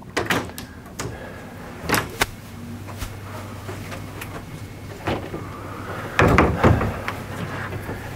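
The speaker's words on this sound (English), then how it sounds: "The bed is in the cabinet. The next thing is to close the doors up." Wooden doors of a wall bed cabinet being closed during assembly, giving several knocks and thumps with a louder double clatter near the end, set against low room hum.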